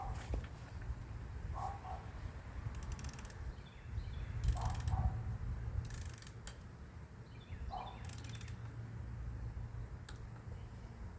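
Torque wrench tightening the oil pump bolts on a 1965 Ford Thunderbird to 15 foot-pounds: quiet ratcheting clicks come in short bursts every few seconds over a low steady background hum, with no talking.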